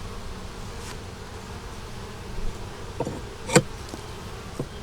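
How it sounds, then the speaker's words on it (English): Honeybees at a hive that had swarmed hum in a low, steady drone throughout, with a few brief closer knocks and taps over the constant buzz and no talk. "That's the bees in the top right there."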